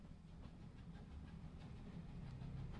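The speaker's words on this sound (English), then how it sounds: "I'm on a train." A train runs in The Room Three puzzle game: a steady low rumble with faint rhythmic clatter that holds even and unbroken throughout, with no voices.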